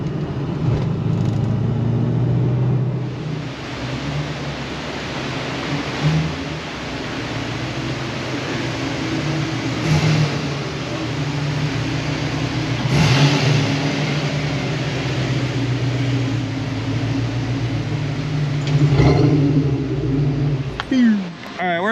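1990 Ford Mustang Foxbody GT 5.0 with a custom exhaust, engine running with a steady loud rumble and a few swelling revs, heard from nearby with a person talking over it at times.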